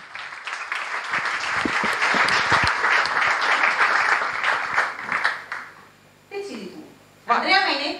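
Steady crowd applause with dense clapping for about five seconds, fading out, followed by a couple of brief voices.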